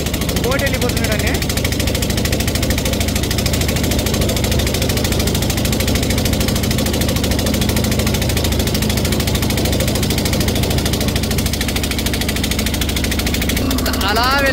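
A motorboat engine drones steadily and close on the Sharavathi river backwaters at Honnavar, a continuous low hum throughout, with people talking over it.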